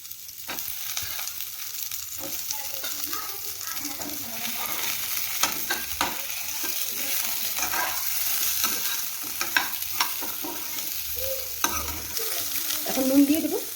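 Pointed gourd sizzles in hot oil for a koi fish curry while a spatula stirs and scrapes the pan, a steady frying hiss punctuated by clatters.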